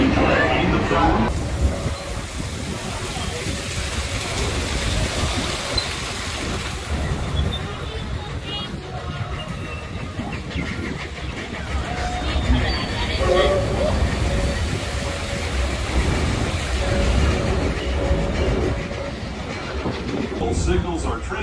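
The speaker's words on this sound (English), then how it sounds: "welcome aboard the Disneyland Railroad" The Disneyland Railroad train rolls along, a steady rumble with rhythmic clickety-clack of wheels on track, heard from aboard with a narrator's voice talking over it.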